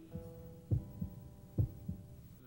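A heartbeat sound effect thumps in a steady lub-dub pattern: two paired low beats, each a heavy thud followed by a softer one, over a faint low hum.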